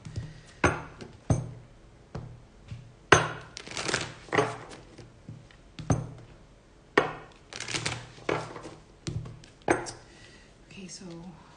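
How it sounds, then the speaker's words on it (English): Repeated bursts of cards being riffled and bridged, each a quick crisp flutter followed by a pause, close up, with no one talking. "I'm going to be shuffling a few decks"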